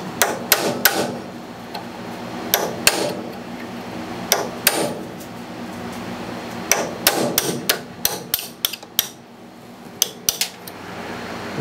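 A metal punch struck repeatedly with a hammer to drive a tapered pin out of an old Sheldon lathe, sharp close metallic hits in irregular bursts, some in quick clusters, with a quiet room behind and no talking.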